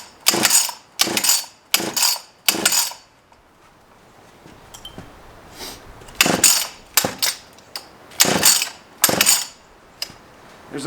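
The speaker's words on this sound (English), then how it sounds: "There's a couple different ways to start a chainsaw. You just saw me doing the drop method there." A chainsaw is started by the drop method: about a dozen loud, sharp pull-cord rips come in two clusters with a quiet gap between them, and the engine is not heard running.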